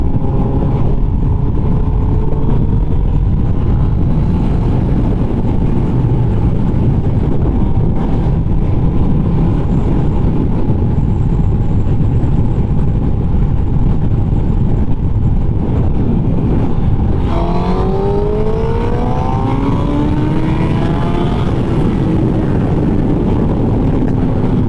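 A tuned 2019 Honda CBR1000RR SP1 with a fresh ECU tune accelerates in third gear from low revs, not at full throttle. Its engine note climbs steadily under heavy, constant wind rush, with no voices.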